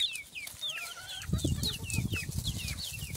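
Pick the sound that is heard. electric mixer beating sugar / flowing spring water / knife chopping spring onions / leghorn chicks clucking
leghorn chicks clucking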